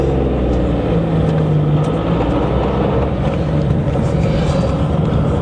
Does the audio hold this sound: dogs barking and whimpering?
no